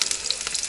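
Pasta and canned stewed meat fry in a pan on a gas stove, giving a steady bright hiss and crackle of sizzling, close and alone.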